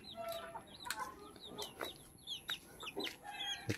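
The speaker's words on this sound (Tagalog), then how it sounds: "kalat yung ating mga sisiw" Young chicks chirp and peep among chickens on a farm, with scattered high cheeps and occasional clucks in quick, overlapping bursts at moderate distance, no voices.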